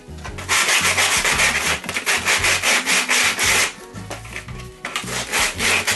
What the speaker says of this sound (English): I'm going to sand that a little bit so that it's not quite so rough